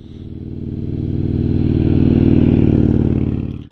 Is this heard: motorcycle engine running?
yes